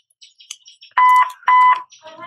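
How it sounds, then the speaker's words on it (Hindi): A Bluetooth amplifier module with mic, TF card and USB input, turned up to maximum volume, gives two loud, steady electronic beeps in quick succession, preceded and followed by faint background sounds. "यहाँ पे बीप कर रहा है"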